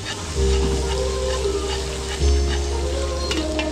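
Barbecue skewers sizzling and frying on a grill at a catering job at a private resort in Porac, Pampanga, a steady close crackle with a low rumble and a brief louder burst partway through.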